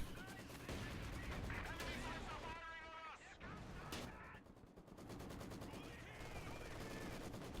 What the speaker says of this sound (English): T-34-76 firing into the Maxim.